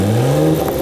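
A car engine revs loudly with a steady low drone and rising pitch, exhaust hooked to a tester at the rear converter on a car that had been blowing oil smoke, heard close without talk.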